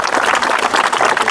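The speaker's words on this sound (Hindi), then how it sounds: "चलिए जोरदार ताली बजनी चाहिए" Loud, dense applause from an audience at a talent award ceremony for a fitness group, steady clapping throughout with no pauses.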